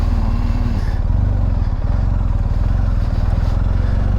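A 2024 BMW F800GS motorcycle engine idles nearby, a steady, loud, even throb that continues unchanged with no voices over it.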